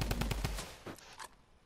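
Machine gun firing in Fortnite: a rapid, close burst of about half a dozen shots in the first half second, then two or three spaced single shots trailing off, with no talking.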